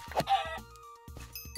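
A Minecraft chicken clucks in a few short, soft bursts inside a cave level, with quiet game sounds around them and no talking.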